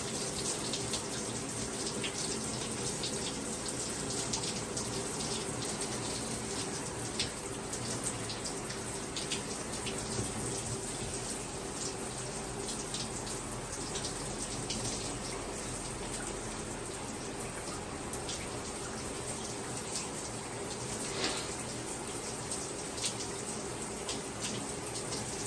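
Tap water runs steadily from a faucet while hair is being rinsed, a continuous splashing hiss that stays even and close throughout with no talking.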